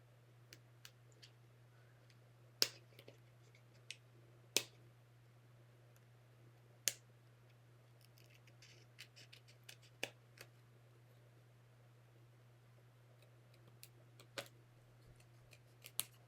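Scissors snipping papercraft card to trim off an extra edge for a shaker card, a few sharp isolated clicks and cuts spaced across a quiet room with a steady low hum underneath.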